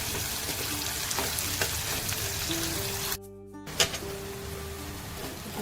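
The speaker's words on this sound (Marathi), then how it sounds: "कांदा लसूण चांगला परतवून घेऊया." Crushed garlic and finely chopped onion sautéing in a pan make a steady, close hiss of frying that fills the clip, with a brief dip in the middle and a few faint clinks, no talk.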